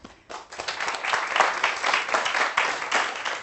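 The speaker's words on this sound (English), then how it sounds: "you do deserve an applause for that introduction" A lecture audience claps after a speaker's introduction, a steady burst of many hands that swells and then holds, with no talking over it.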